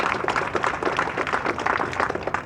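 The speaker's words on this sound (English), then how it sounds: "Let's give him a big round of applause" Audience applause for Mayor Garcetti at a Skid Row Community Refresh Spot grand opening, a dense, steady patter of many hands clapping close by without a break.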